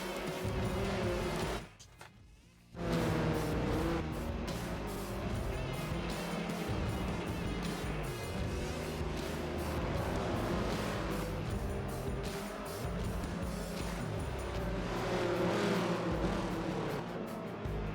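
Race cars in Forza Motorsport 7 at Yas Marina rolling into pit lane, a continuous layered engine drone with shifting tones as several cars pass, steady and fairly loud, with a brief dip early on.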